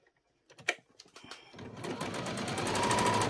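A sewing machine runs a narrow hem on doll pyjamas, starting after a few soft handling clicks and settling into a steady, fast, close whirring stitch that builds and holds to the end.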